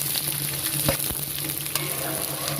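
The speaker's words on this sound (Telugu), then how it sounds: "రెండు ఆనియన్స్ మంచిగా సన్నగా తరుక్కొని అదే ఆయిల్లో ఫ్రై చేసుకో" Two thinly sliced onions frying in oil left over from earlier cooking, a steady close sizzle with occasional clicks and scrapes of stirring.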